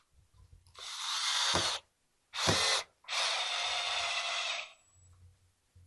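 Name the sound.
driving a pocket hole screw into a deck chair with a drill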